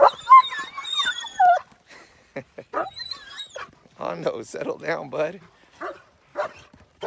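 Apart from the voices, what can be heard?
dogs whimpering and barking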